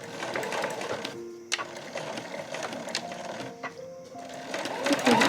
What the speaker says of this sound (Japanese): でこのまままっすぐ進んで縫っていきます。